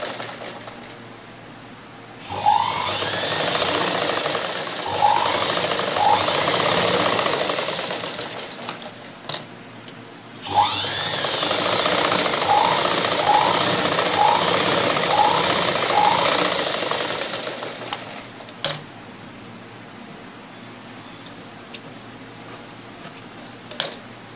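A sewing machine fold-stitches the front part of a blouse in two long, fast-running bursts separated by a short pause, with light clicks and handling noises in between and afterward, loud and close.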